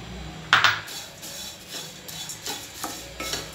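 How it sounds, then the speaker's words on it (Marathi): Poha is roasted and stirred in a pan for chakali bhajani flour, giving soft, irregular scraping and clinking of a spoon against metal, with one sharper clatter early on, all fairly quiet and with no voices. "पोहे पण आपल्याला दोन ते तीन मिनिट परतवून घ्यायचे।"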